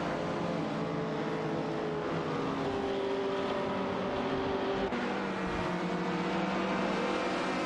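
Race cars in a racing video game, among them a Jaguar E-Type lightweight and a TVR Griffith, hold a steady, loud engine drone throughout, with no talk.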